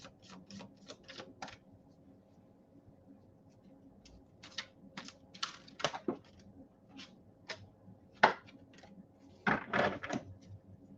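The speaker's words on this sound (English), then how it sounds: "Okay, one more shuffle." Quiet clusters of crisp, rapid tarot card riffles and flicks, several short bursts spread across the stretch with brief pauses between them, close by and without talk.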